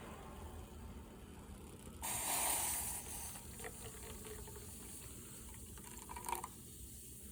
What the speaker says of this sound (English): I'm going to put some of my water in here.